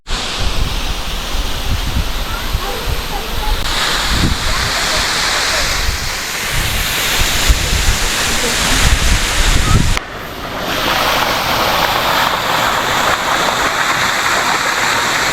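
Heavy rushing water from a rain-swollen waterfall in Meghalaya, a steady broadband roar that shifts in tone partway through as the view moves, with no speech over it.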